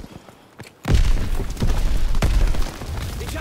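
An artillery gun blown up in Call of Duty WW2 multiplayer: quiet battlefield noise, then a sudden heavy boom with rumbling debris, a second sharp blast, and a fading roar.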